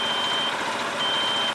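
A seedling request buzzer on a rice transplanter gives a steady, high continuous electronic beep, heard close and alone.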